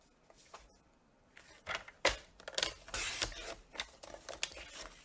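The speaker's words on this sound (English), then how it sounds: "I'm going to take all 3, stack them up, and cut them all at 5 1/4" A stack of three sheets of card paper being trimmed on a paper cutter, quiet scraping and slicing strokes with a few sharper clicks and swishes, close and faint, no voices.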